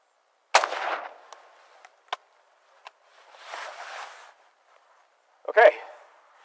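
AR-15 rifle shots fired at 17 yards at an outdoor range, a sharp report near the start and another near the end, with a few faint clicks and a stretch of murmured voices between them.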